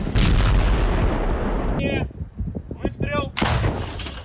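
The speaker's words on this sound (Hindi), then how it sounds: "तभी अचानक सामने से यूक्रेनी फौज की तरफ से फायरिंग होने लगी।" Gunfire from Ukrainian forces in battle footage from Bakhmut, heard as a loud, dense burst of shots and booms at the start, then scattered sharp cracks, and another heavy burst near the end.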